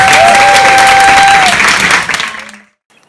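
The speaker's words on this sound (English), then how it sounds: "could you all give them a massive round of applause?" A festival audience breaks into a loud, dense round of applause with some cheering, close and full, then fading out and stopping abruptly near the end.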